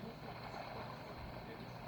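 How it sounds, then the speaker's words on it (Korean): A boat engine in a mobile battle royale game runs as a steady low hum with wind and water noise, faint and continuous, with no talking over it. "보트다."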